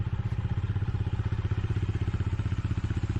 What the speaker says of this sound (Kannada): ನನ್ನ ಬೈಕ್ ಜಸ್ಟ್ ಒಂದು ಕೋಲ್ಡ್ ಸ್ಟಾರ್ಟ್ ಮಾಡ್ತೀನಿ ಅಷ್ಟೇ.